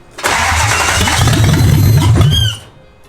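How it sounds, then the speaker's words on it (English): A Toyota 1UZ V8 swapped into a Nissan S14 cranks loudly for about two seconds, a rapid rhythmic churning starter whir with the engine nearly catching, then stops abruptly, close and without talk. "Feels like it's almost gonna start."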